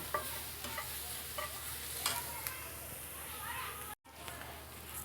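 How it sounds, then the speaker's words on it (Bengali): Chopped onion softening in mustard oil in a pan, giving a steady low sizzle with soft stirring scrapes and a brief break near the end, fairly quiet and heard alone. "এখন একটু সরিষার তেল দিয়ে আমি সুন্দর করে পেঁয়াজটাকে একটু হালকা একটু ভেজে নেব।"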